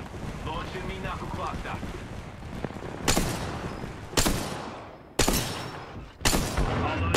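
Four sharp, loud gunshots in Apex Legends ring out about a second apart, each decaying quickly over a constant rumble of game sound.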